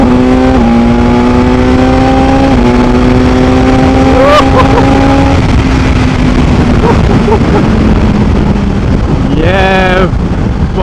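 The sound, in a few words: BMW S1000XR motorcycle accelerating in third gear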